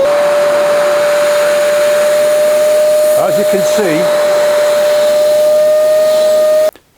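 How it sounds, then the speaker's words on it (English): A V Tuf Mini X2 M-class dust extraction vacuum runs with a steady loud whine and hiss that cuts off abruptly near the end, while someone speaks briefly over it. "So when the vacuum's running, if it starts blocking,"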